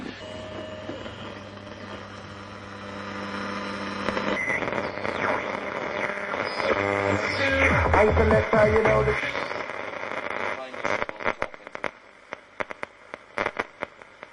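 An old valve radio being tuned, sweeping through whines, warbling tones and bursts of static before crackling and fading into sparse pops near the end, heard alone and fairly close.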